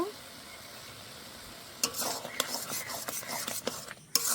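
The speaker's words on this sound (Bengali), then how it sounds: "কিছুক্ষণ নেড়ে নিলাম।" Taro greens with turmeric powder are stirred in a pan, a quiet low simmer followed by a series of scraping, rubbing spoon strokes and soft sizzling, close and fairly faint.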